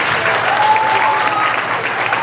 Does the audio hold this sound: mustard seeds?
no